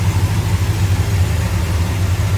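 A 1969 Dodge Coronet R/T with its original numbers-matching 440 V8 idles steadily and loudly up close, a deep even rumble with no talking over it.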